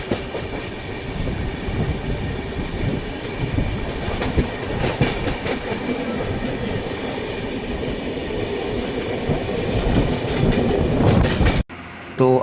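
A long-distance passenger train from Howrah to Pondicherry runs on a morning, heard up close from the open carriage door as a loud, continuous rumble with clickety-clack wheel beats, cutting off abruptly near the end.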